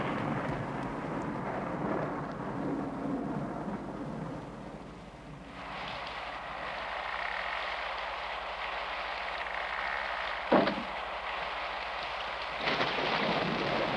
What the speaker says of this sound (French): il doit être effrayé par l'orage